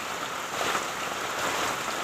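Steady rain falls with a dense, even hiss and patter, continuous and fairly faint, with no other sounds over it.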